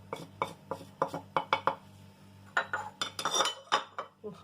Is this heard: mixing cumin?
yes